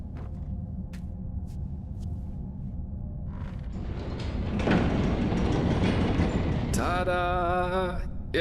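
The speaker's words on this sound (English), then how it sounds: "I'll see if I can get the train running somehow." A train in the game Enderal starts up and runs, with a rising mechanical rumble and clatter that grows louder midway, then a bright hissing, whistling burst near the end.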